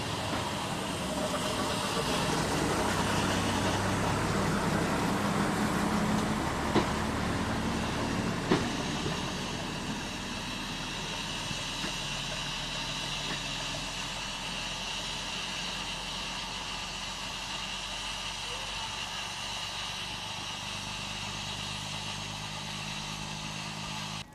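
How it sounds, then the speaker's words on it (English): A 1958 British Railways rail bus crosses the swing bridge at the entrance to the Albert Edward dock, its engine a steady, moderately distant drone with a few clanks early on, fading slightly toward the end. "The rail bus is seen here crossing the swing bridge at the entrance to the Albert Edward dock."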